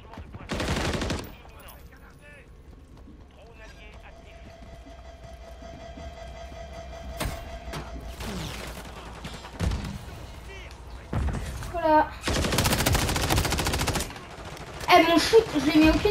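Automatic and single gunfire bursts from a Call of Duty Modern Warfare 3 beta multiplayer match, loud clusters near the start and end with quieter game ambience between, under occasional talk.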